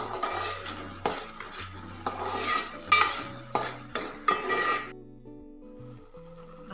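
Ginger garlic paste frying in oil for a Malvani prawn curry, a close sizzle punctuated by rhythmic spoon scrapes and clinks against the pan, then the frying noise drops away near the end.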